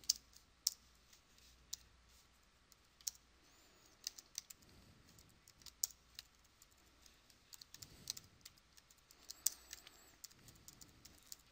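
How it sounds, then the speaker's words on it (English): Typing on a laptop keyboard during a programming session on design patterns: quiet, close, irregular key clicks in scattered bursts, with no talking. "This is what I get for using one keyboard all day, and now I'm using my laptop keyboard."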